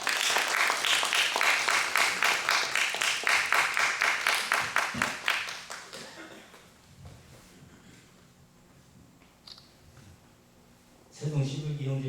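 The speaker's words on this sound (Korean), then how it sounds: "박수 부탁드립니다." An audience at a church fathers' school gathering applauds loudly for about five seconds, the clapping fading out before a voice and a thump follow.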